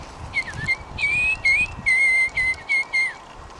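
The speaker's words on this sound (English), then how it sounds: "There's this bird and she talks like this." A pet bird whistles a series of clear, high, bright notes in short rhythmic phrases, several of them sliding in pitch, each separated by brief pauses, close and loud.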